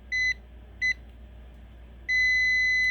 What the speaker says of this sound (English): It should beep when I complete the connection.